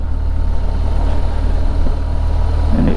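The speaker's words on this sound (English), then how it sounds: "Use me engine braking to slow me down." Car engine braking on a steep 1-in-6 hill descent, a steady, loud low drone of the engine held under load with road rumble, continuous and without gear changes.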